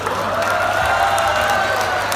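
Weak, sustained applause from an auditorium audience at a comedy show, a steady wash of thin clapping and crowd murmur with no strong peaks.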